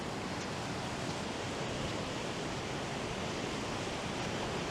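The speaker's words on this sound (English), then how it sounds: "I'm back at the waterfall." A waterfall spills onto the shore at Runswick Bay beach beside rolling surf, making a constant broad roar at moderate distance with no talk over it.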